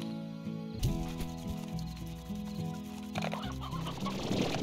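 Hens on a modded video game ranch cluck in short, repeated bursts over a busy game soundtrack, fairly close and clear, with soft patter mixed in and no speech.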